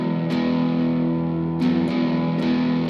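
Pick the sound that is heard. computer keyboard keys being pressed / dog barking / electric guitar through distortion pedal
electric guitar through distortion pedal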